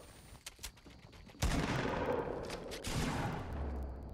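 Gunshots in Fortnite Battle Royale, a few faint distant pops followed by a louder blast and continuing bursts of fire, fairly quiet overall with no talk.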